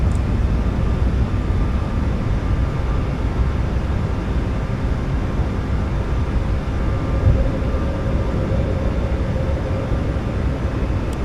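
Steady broadband roar inside the cockpit of an iFly Boeing 737 MAX 8 climbing after takeoff, a continuous engine and airflow rumble with no break and no talk.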